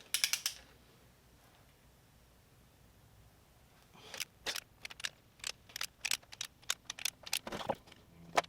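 A torque wrench ratchets on engine head bolts during a Mazda BP cylinder head install, giving a burst of clicks at the start, a quiet pause, then a run of sharp, close ratcheting clicks and metallic snaps.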